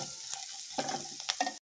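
A green tomato curry with green chilli and brinjal sizzles steadily in a pan while it is stirred after salt goes in, village style, with close scraping strokes over continuous frying hiss.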